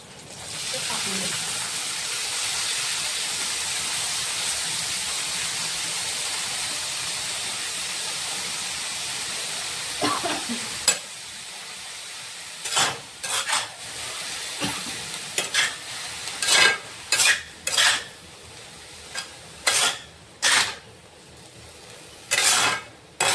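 Fenugreek leaf sabzi with turmeric stirs and fries steadily in a pan, a continuous soft sizzle and hiss, later broken by a series of sharp scraping or clattering bursts from stirring near the end.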